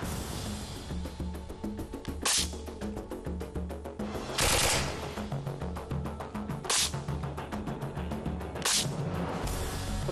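Rapid bursts of submachine gun fire at a shooting range, from a Sterling MK4 and an MP7A1, dense rattling shots repeating continuously, with several sharper, louder blasts standing out at intervals.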